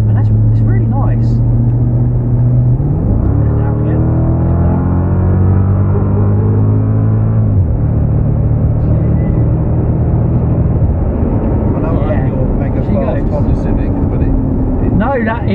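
A 2003 Mercedes CL 55 AMG engine revving hard under acceleration, a loud in-car drone rising through the revs with gear changes between climbs, continuous and close.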